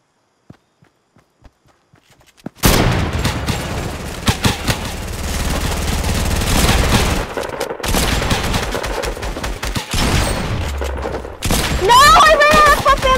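Loud rapid gunfire from a pump shotgun in a video game, a few sharp isolated pops followed by a dense, continuous barrage of shots with heavy distortion that lasts to the end, with voices shouting over it.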